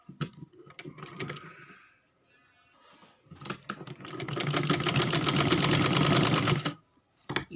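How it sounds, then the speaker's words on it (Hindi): Sewing machine stitching a fitting seam on a kurti: some short clattering bursts and handling noise, a pause, then a sustained, loud, rapid stitching run close by before stopping abruptly. "फ्रेंड्स हम ये अब फिटिंग की सिलाई लगाएंगे।"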